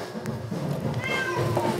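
A hungry domestic cat meows close by in a kitchen, a drawn-out wavering cry over a low background hum.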